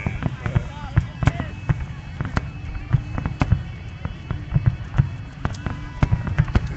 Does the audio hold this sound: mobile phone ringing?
no